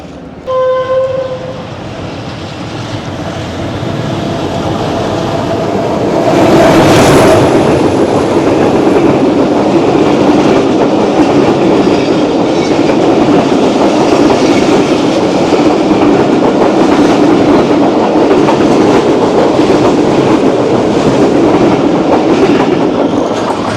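The Jaffar Express runs loud and close with steady wheel rumble and clickety-clack as it passes the Rehman Baba Express near Jhelum station in Pakistan. There is a brief horn-like swell early on, and the roar stays continuous throughout.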